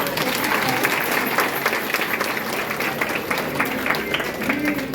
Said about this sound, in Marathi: आपल्याला सर्वांना मी विनंती करतो की साहेबांसाठी जोरदार टाळ्या वाजवून